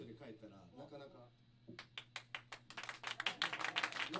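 An audience applauds a live band at an in-store show in a music shop inside a shopping mall in Kobe. Someone talks first, then scattered claps start and build into denser, louder clapping.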